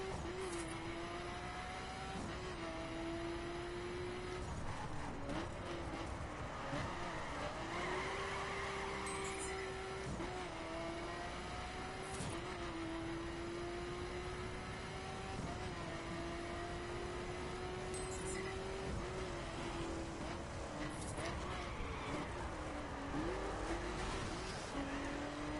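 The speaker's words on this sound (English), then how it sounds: "Come on, car, move." A car drives in a racing video game on PS4 with a constant engine drone whose pitch repeatedly climbs and drops through gear shifts, along with occasional tire squeals and impact thuds, all loud and steady throughout.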